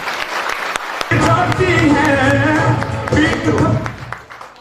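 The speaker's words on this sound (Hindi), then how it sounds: "मैं चाहूंगा सर के लिए जोरदार तालियां।" An audience at a Safe Shop business gathering breaks into loud applause after a short quiet start, with a voice talking over the clapping throughout.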